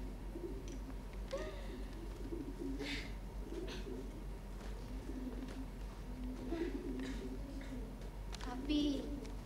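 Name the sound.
pigeons cooing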